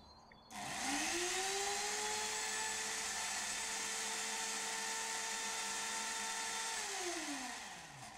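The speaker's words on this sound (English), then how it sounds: "A handheld mechanical homogenizer is usually employed." A handheld mechanical homogenizer used to prepare samples for COD analysis spins up with a sharp rise into a steady high-pitched motor whine, holds for several seconds, then winds down as its pitch drops, close and alone.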